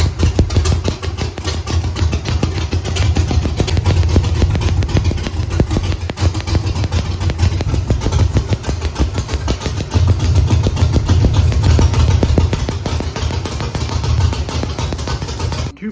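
A car engine with dead cylinders runs loud and close, its uneven rough idle chugging and pulsing steadily throughout.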